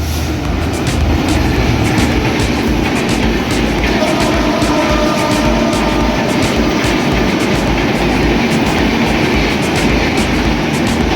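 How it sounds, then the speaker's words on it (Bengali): The Dhaka-to-Kolkata Maitree Express runs fast through Ullapara railway station on line two, a loud continuous rumble with rapid rhythmic wheel clatter over the rails, close and sustained for the whole stretch. "কলকাতাগামী মৈত্রী এক্সপ্রেস উল্লাপাড়া রেল স্টেশনের দুই নম্বর লাইন দিয়ে এই মুহূর্তে প্রবেশ করছে অত্যন্ত দ্রুত গতিতে"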